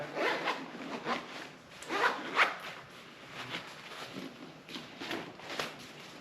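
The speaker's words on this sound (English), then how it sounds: "The tool bag, let's open it up and see the tool bag." The zipper on the tool bag of a Klim Arsenal 15 hydration backpack is pulled open in several close, rasping runs with short pauses between them.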